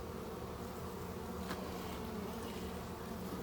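Honey bees swarm around an open hive during an urban hive inspection, a dense continuous buzz that fills the clip, steady and close with no voices.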